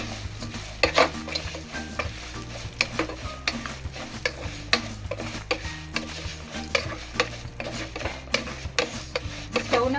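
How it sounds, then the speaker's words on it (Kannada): Vermicelli fries gently in ghee over a low flame, a soft steady sizzle broken by regular clinks and scrapes of a spoon stirring in the pan, close and continuous for ten seconds with no speech. "ತುಪ್ಪದಲ್ಲಿ ಸ್ವಲ್ಪ ಫ್ರೈ ಮಾಡೋಣ."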